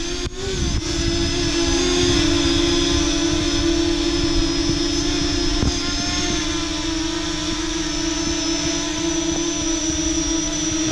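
A Parrot Anafi drone hovers with a steady, high-pitched motor whine droning continuously at close range, holding an even pitch with faint wind buffeting and no voices.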